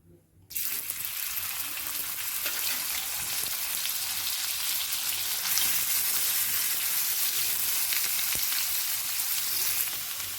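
Onion dropped into plenty of hot oil: after a brief quiet, a loud sizzle bursts in and holds steady and close, with faint occasional stirring.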